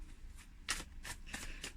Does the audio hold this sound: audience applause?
no